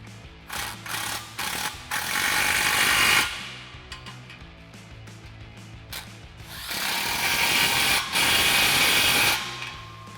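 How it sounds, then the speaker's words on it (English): Tightening exhaust clamps on a Challenger cat-back exhaust with a 15 mm socket, loud close mechanical bursts of rapid clicking and whirring, several short runs then two longer stretches. "Now we can tighten these down with a 15 millimeter socket."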